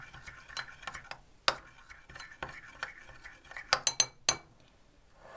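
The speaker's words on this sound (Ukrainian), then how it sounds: "Добавляю оливкову олію і гірчицю. Так, перемішую, це буде заправка." Olive oil and mustard being stirred into a salad dressing for an avocado salad, heard as light, irregular clinks and scrapes of a utensil against a bowl, with a few sharper taps near the end.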